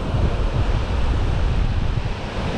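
Ocean waves surge and break along the beach at Kunkeshwar on the Devgad coast, a steady, loud wash of surf that fills the whole stretch without pause or voices.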